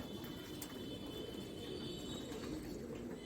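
Tonk breed pigeons, including a male, coo softly in a breeding loft. Low, burbling coos repeat faintly under quiet background noise, with no speech.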